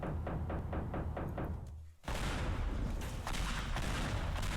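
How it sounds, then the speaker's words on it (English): Cluster bomb going off in the video game Teardown: a rapid run of about seven sharp repeated knocks, then one loud sustained blast with crackling debris that rolls on to the end, close and heavy. "A cluster bomb."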